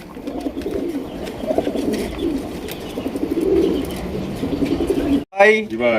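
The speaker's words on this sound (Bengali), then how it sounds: "দেখতেই পাচ্ছেন অনেক সুন্দর পুতুল একজোড়া গররা কবুতর" A pair of pigeons at a pigeon farm cooing in low, repeated rolling calls close by, continuing steadily for several seconds before a short break and a brief voice-like sound at the end.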